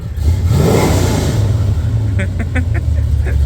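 A 1969 Plymouth Road Runner's engine revs and rumbles up close with a deep throaty exhaust drone, the exhaust hitting the cross member, then settles to a steady idle as brief chirpy tones appear.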